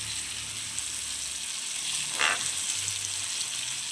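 Date curry sizzles and fries in a pot, a steady soft hiss with a brief louder sizzling burst midway, heard alone without talk.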